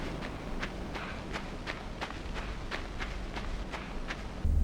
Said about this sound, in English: The sound design greatly contributes to that, like the sound of footsteps.